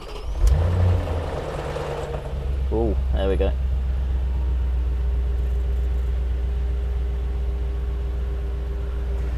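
A 2004 Audi B6 S4 engine idles after an oil change with a deep, steady rumble that holds throughout, while a person speaks briefly early on.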